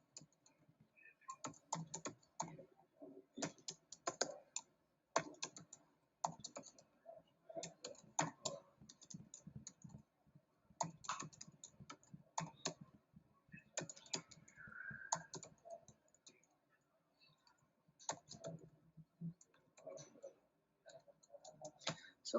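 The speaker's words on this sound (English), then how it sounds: "I'm just typing it randomly." Quiet, irregular typing on a computer keyboard, bursts of rapid key clicks separated by short pauses, close by.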